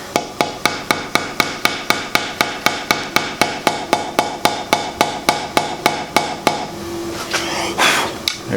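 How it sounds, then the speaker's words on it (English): A rubber mallet tapping a stud into a DIY Les Paul guitar kit body, with about twenty evenly spaced sharp knocks in a steady rhythm, loud and close, then a softer rustle at the end. "I'm going to take a rubber mallet and I'm going to go ahead and ding this stud in"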